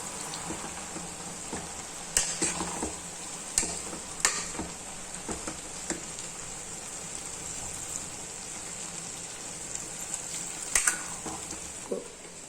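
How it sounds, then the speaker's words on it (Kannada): Water goes into a sizzling pan of field bean usli in a pressure cooker, bringing a steady hiss with a few sharp clanks and scrapes from stirring, close and moderate in level, with no talking. "ಈಗ ನೀರು ಹಾಕ್ತೀನಿ ನಾನು."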